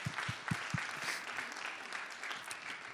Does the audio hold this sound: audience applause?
yes